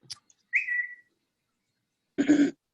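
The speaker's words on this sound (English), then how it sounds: "Who's whistling?" A short human whistle, a single sustained note, followed by a brief cough-like throat sound after a pause, in an otherwise quiet room.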